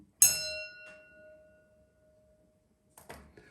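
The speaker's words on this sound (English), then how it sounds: "I have a little gong for you, only for you." A small gong struck once, ringing close and bright with a long shimmering decay that fades over more than a second, followed by a brief soft clank near the end.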